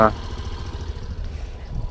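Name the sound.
Suzuki Burgman 125 Street EX scooter engine idling quietly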